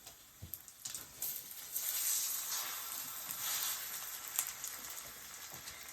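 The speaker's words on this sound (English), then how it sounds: "So it's looking like our egg is starting to get cooked" An egg frying in a pan gives a steady, close sizzle with small crackling pops, rising and falling in intensity throughout, with no voices.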